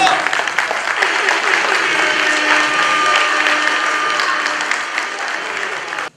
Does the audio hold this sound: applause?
yes